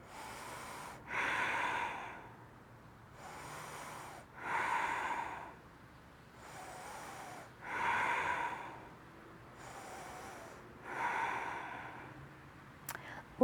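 Slow, deep breaths during a restorative yoga bridge pose, each long inhale and exhale audible and close, about five full breath cycles in a quiet room without talk.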